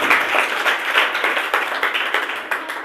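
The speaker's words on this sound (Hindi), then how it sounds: "जोरदार तालियां हो जाए" A Children's Day prize-giving audience bursts into brisk, close clapping for a winner, a dense, lively round of applause with no talking.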